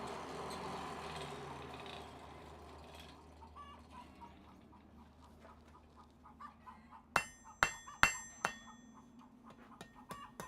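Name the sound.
blacksmith hammer striking hot metal in smithy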